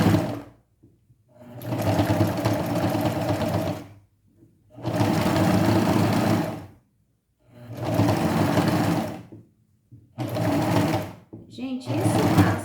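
Sewing machine stitching a fabric face mask, loud and close in four long runs of steady whirring, each a few seconds long, separated by short pauses, with a brief start of another run at the end.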